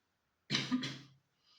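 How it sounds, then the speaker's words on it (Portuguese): A single short cough, close and fairly quiet, from a person with a mild cough, followed by a faint breath in an otherwise silent room. "Tô tossindo um pouco, então esse vídeo vai ser todo assim."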